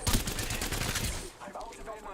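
Rapid bursts of gunfire in a video game crackle loud and close in a dense volley, then ease off slightly near the end, with faint talk mixed in.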